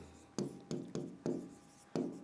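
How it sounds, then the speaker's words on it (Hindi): Chalk or marker strikes a board in five crisp taps at a steady pace as a Sanskrit sentence is written, close and fairly quiet, with no talk over it. "हम यहाँ लिखते हैं कि रामः"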